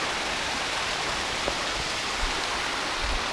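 Steady, even rush of a waterfall and flowing stream at Hemmed In Hollow, a continuous broadband wash with no voices.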